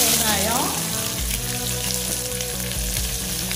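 Onion sautés in oil with mustard seeds, cinnamon, bay leaf and star anise for an eggplant gravy, producing a close, steady sizzle beneath prominent tonal music.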